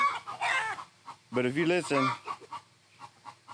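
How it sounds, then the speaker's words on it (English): Chickens clucking near a Buff Orpington hen with roosters around on a pasture farm, with clucks and calls heard in a burst under a person's speech. "that clucking, them roosters over there are really encouraging that Buff Orpington hen in there to lay eggs"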